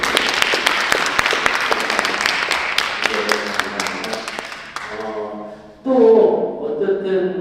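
Dense audience applause fills a room at an annual general meeting, loud and sustained for several seconds before thinning out as voices and a few scattered claps continue.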